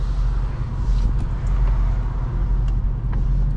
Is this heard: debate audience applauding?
no